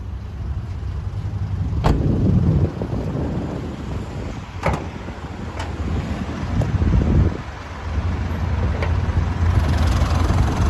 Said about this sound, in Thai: ผมขออนุญาตสตาร์ทเครื่องด้วยเลยนะครับผม จะได้ฟังเสียงเครื่องนะครับ